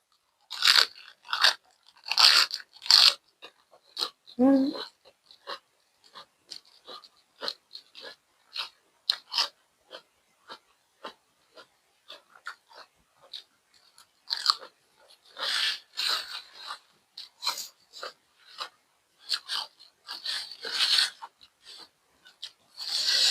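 Crisp roasted pork leg, reheated in an air fryer, chewed with sharp, loud crunching bites in irregular bursts, busiest at the start and again toward the end, with quieter stretches between and no talking.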